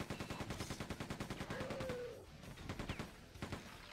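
Rapid repeated shotgun blasts from the video game Quake II (2023 Remaster), fired in a steady rhythm of sharp loud shots that pause briefly, then resume.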